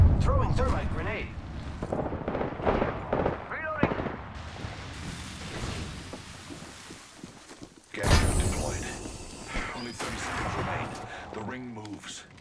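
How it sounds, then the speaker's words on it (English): Video game combat: a thermite grenade is thrown amid heavy gunfire, with dense bursts of shots and blasts, then a sharp loud eruption partway through, all under a voice speaking. "They're shooting at me. Throwing thermite grenade."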